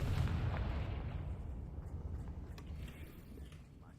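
Confringo fire spell from Hogwarts Legacy bursting with a deep booming explosion that rolls and fades over a few seconds, no speech.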